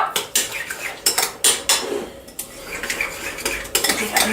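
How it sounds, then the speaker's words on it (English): A spoon stirs yogurt with vanilla extract and stevia in a bowl for overnight oats, making repeated sharp clinks and scrapes against the dish in an uneven rhythm, close up, with no voices. "Give it a nice stir"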